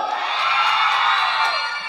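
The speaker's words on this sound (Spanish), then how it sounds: "Aplauso para Anselmo" A lively crowd at a contest in Villanueva cheers, applauds and shouts loudly, with children's whoops and yells rising together in a continuous burst of excited noise.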